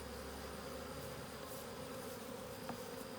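A honey bee buzzes close by near a beehive, a steady continuous drone with a faint rising pass partway through.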